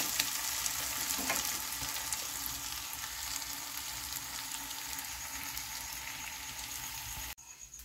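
Curry leaves crackling in hot oil for an egg curry, a steady close sizzle with scattered pops that cuts off abruptly near the end.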